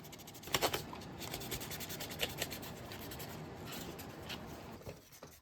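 Soft, steady rubbing of 220-grit sandpaper on a plastic Star Trek prop phaser seam, a quiet close scratching rasp with quick back-and-forth strokes running the whole time.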